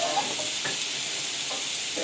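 Cajun red snapper fries in a pan, a soft steady sizzle with faint scraping touches as the fish is handled, low and continuous with no voices.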